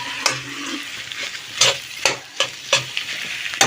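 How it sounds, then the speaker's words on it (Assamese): Potato and babori greens frying in a pan, a steady soft sizzle broken by a series of sharp scraping clacks as a spatula stirs and turns the mixture, close and fairly loud. "আলু আৰু শাকৰ ভাজি হৈ আছে"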